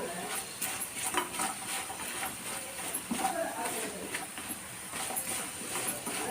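Vegetarian liver fry sizzling and being stirred in a pan with chili powder, a steady hiss with intermittent scraping and stirring knocks, close up, while a person talks.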